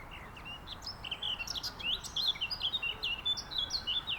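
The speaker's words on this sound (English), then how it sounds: "Beautiful bird song on the left." Bright bird song in a park with quick repeated chirps and warbling phrases, fairly close and steady against quiet outdoor background noise.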